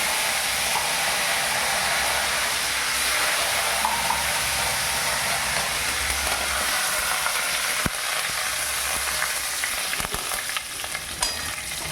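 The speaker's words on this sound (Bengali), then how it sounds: "তেলটা গরম হয়ে গেছে, দেখুন সর্ষে দেওয়া আছে, এর মধ্যে শুকনো লঙ্কা দেওয়া আছে, এর মধ্যে কারি পাতাটা দিলাম।" Curry leaves sizzle in hot oil along with mustard seeds and dried red chilli for a sambar, a loud, dense, continuous frying hiss with faint crackles and occasional stirring clinks close by.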